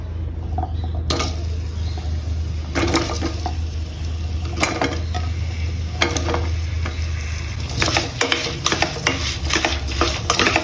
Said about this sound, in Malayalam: ഇനി നമുക്കിത് നന്നായിട്ടൊന്ന് മിക്സ് ചെയ്യണം